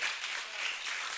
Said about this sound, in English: Another round of applause for that young man